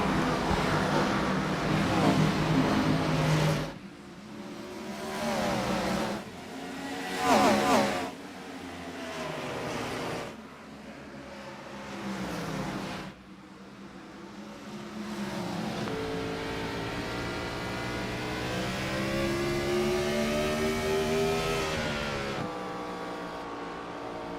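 Race cars starting a 150-lap race at Lucas Oil Raceway in an OCTANE Series event: engines rev loudly and climb through the gears in rising whines, with breaks between shifts, then a sustained roar as the field accelerates.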